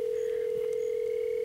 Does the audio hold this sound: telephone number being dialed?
yes